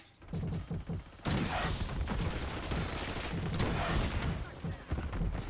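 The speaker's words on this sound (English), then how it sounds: "Firing Archangel" Archangel killstreak firing in Black Ops 6: a dense, continuous barrage of rapid gunfire and blasts rolls on for several seconds, loud and close, with a short gap near the start.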